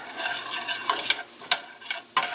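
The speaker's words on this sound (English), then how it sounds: "Now we're going to put the garlics in there." Garlic and onions sizzle in a skillet with a steady close hiss, broken by a few sharp stirring scrapes.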